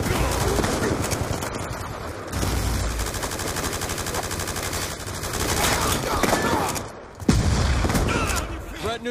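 Hellstorm missile strikes and heavy gunfire pound through a zombies video game, a dense, continuous barrage with a sharp blast near the end and game voices in the mix.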